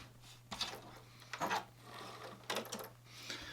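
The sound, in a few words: sewing machine chain piecing fabric strips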